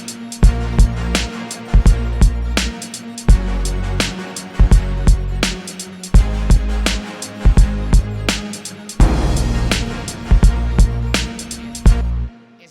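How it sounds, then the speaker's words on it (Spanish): A newly finished orchestral-style instrumental plays loud and alone, with booming, long-tailed orchestral kick hits landing in a steady pulse under sustained pads and bright accents, building to a dense swell near the end. "para empezar les voy a mostrar una instrumental que acabo de terminar"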